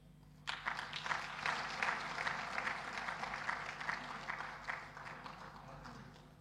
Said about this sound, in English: And another applause for the Republic of Zimbabwe to welcome them to